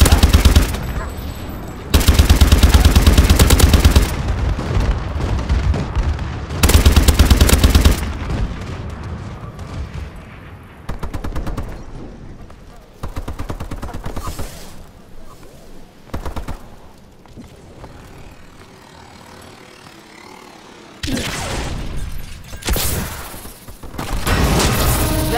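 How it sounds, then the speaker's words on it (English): In Exo Zombies, a friendly bombing run rains down heavy blasts and rattling gunfire in loud bursts, with quieter stretches in between. "Friendly bombing run incoming."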